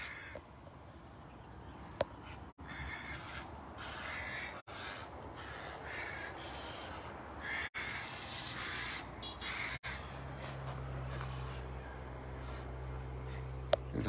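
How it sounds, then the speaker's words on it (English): Crows caw repeatedly in bursts, loud and harsh, with several birds calling over one another, then a low steady hum enters toward the end. "Like these birds aren't happy I'm here today."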